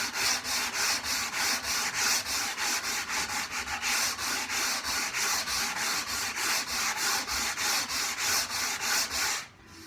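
Wooden table legs are hand sanded in quick, even back-and-forth strokes, a close, rhythmic scratchy rasp repeating about three times a second and stopping abruptly at the end.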